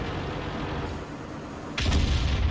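Artillery fires in World of Tanks: over a steady low rumble of engine and battle noise, a single deep, close boom hits sharply near the end and rolls on loudly.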